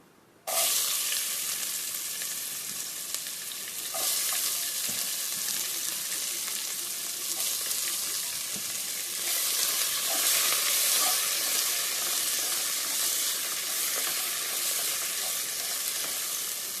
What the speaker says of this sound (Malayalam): ഇനി ഇതിലോട്ട് സവാള ഇട്ട് വഴട്ടാം.